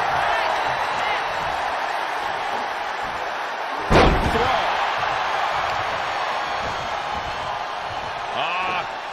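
A capacity wrestling arena crowd roars in a sustained, dense wash of cheering, with a heavy slam from the ring partway through and a swell of noise near the end.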